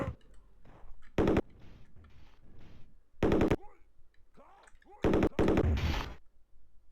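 Turret fire in the shooter Operation Body Count comes in several short, loud, rapid bursts of machine-gun rattle separated by quieter gaps with voice-like game sounds.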